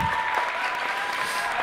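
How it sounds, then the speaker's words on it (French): A short stretch of steady crowd clapping at a cabaret, moderately loud and even, with no voice over it. "On applaudit, s'il vous plaît."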